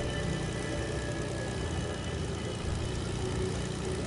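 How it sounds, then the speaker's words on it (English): An airplane engine drones in the Fortnite video game, a steady, loud, unbroken hum filling the whole stretch with no talk over it. "I'm kind of just like hiding out in this plane flying around."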